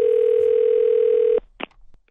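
A steady telephone dial tone hums loud and close for over a second before a prank call, then cuts off, followed by a few short electronic dialing beeps.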